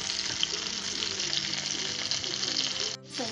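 Chicken thighs fry in a hot pan with a steady, dense sizzle throughout, close and fairly loud, briefly dipping near the end as the pieces shift.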